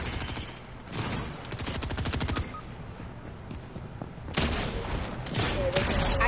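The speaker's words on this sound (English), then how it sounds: "They're shooting at me while I'm emoting." Video game gunfire: rapid automatic bursts rattle in long, loud volleys, pausing briefly before another heavy stretch of shooting resumes.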